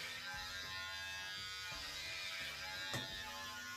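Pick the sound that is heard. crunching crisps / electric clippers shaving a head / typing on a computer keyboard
electric clippers shaving a head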